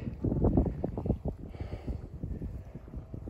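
Wind on a golf course buffeting the microphone in loud, low rumbling gusts that ease off toward the end.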